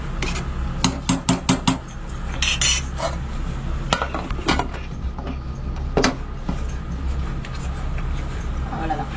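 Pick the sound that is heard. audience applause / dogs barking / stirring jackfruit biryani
stirring jackfruit biryani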